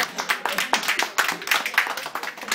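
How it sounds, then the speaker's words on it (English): A party audience at a New Year celebration gives a short round of applause, a dense patter of clapping hands close by that holds steady for a couple of seconds. "Round of applause, please."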